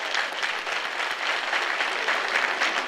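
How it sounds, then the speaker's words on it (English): Steady audience applause at an evening gala introducing a musical, a continuous even wash of clapping from a room full of people throughout. "How about a round of applause for Cardinal Tagle?"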